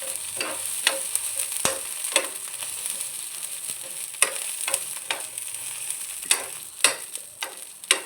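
Long chillies dry roasting in a pan over a slow flame, heard as repeated close scraping and stirring strokes with light crackle between them, irregularly spaced and unaccompanied by speech.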